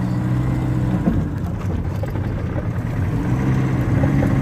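A 1980 model car's engine running loud and steady up close, a continuous rough rumble with no talking heard over it.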